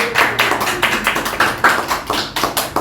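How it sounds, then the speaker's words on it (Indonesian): An audience claps for a youth football coach, with a quick, regular run of sharp close hand claps that stays at a steady level throughout. "Tepuk tangan dulu untuk coach."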